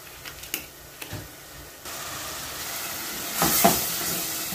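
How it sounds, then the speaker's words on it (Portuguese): Garlic, onion and bell pepper being sautéed in a pan with a little olive oil, giving a steady close sizzle that swells louder near the end, with a few soft utensil knocks early on. "Dei uma refogada aqui, sem eu precisar queimar esse alho, cebola, pimentão"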